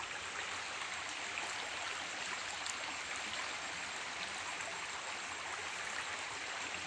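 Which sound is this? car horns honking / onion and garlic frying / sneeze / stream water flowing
stream water flowing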